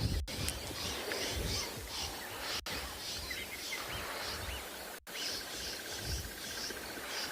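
Wild birds call and chirp repeatedly at sunset in an African wildlife setting, a steady chorus of bright, distant calls with insect-like trilling layered over a low outdoor background, no talking.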